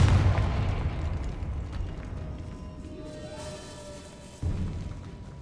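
A Confringo fire spell bursts in Hogwarts Legacy inside a decaying catacomb, giving a deep boom that decays into a low rumble, followed by a second, softer thump.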